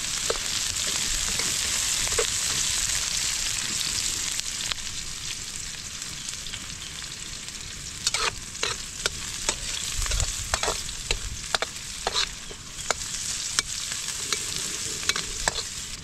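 Ginger, garlic and chili fry in a pan with a steady, close sizzle, later broken by repeated sharp scrapes and taps of a stirring utensil.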